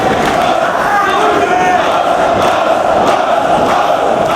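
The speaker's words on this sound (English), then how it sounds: "The Philadelphia crowd hustling it up." Loud Philadelphia wrestling crowd at an eight-man elimination tag team match, a continuous roar of cheering and shouting voices with a few sharper rising yells standing out.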